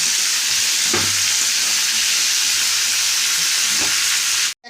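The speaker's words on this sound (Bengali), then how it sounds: "এবার আমি এর মধ্যে পেঁয়াজটা দিলাম" Onions sizzle in a pan of hot oil with garlic and ginger while making chilli paneer, a loud steady hiss close up, broken by two brief scraping stirs before it cuts off.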